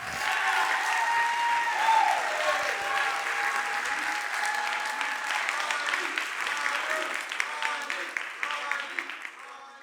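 A large audience applauds its coaches in loud, sustained clapping, with cheering voices and chatter mixed into the crowd noise as the clapping thins toward the end.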